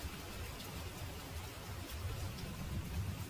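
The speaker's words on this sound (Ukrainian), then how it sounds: "Якось потрапив мурашка під сильний дощ." Heavy rain pours in a steady, dense hiss with low rumbling, close and constant, used as a sound effect in a children's fairy tale about an ant sheltering under a mushroom.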